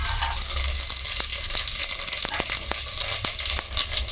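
Whole spices crackle and sizzle in hot oil for coconut pulao, a steady dense hiss with sharp pops scattered throughout, close and continuous.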